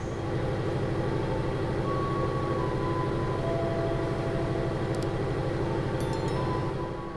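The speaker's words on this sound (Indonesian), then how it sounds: "itu merupakan kereta api Serayu dari Pasar Senen tujuan Purwokerto via Kiara Condong" The Serayu passenger train from Pasar Senen rolls past on a nearby track at a station, a steady continuous rumble of wheels and carriages with faint squeals and a brief high clank near the end, no voices.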